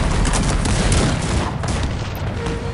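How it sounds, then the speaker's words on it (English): Cannons boom and muskets crackle in a Cossacks 3 multiplayer battle, dense overlapping volleys of gunfire that stay loud and continuous throughout. "While the cannons are shooting."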